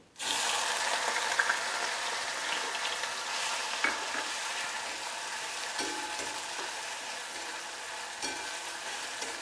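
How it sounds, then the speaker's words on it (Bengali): A large onion, crushed in a mortar and pestle, fries in hot oil with a loud, steady sizzle that starts abruptly and holds throughout, with a few faint clicks of stirring and no voices. "পেঁয়াজটা আমি মিডিয়াম করে একটু লাল করে ভেজে নেব।"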